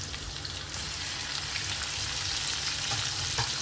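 Tomatoes and onions with garlic paste frying in a pan for pav bhaji, a steady close sizzle with faint spattering crackles throughout, no talking.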